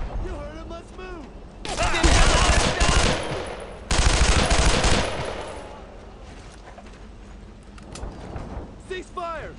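Sustained machine gun bursts in the World War II shooter Brothers in Arms, loud and rapid with overlapping rattling fire, as soldiers shout in the background during a firefight.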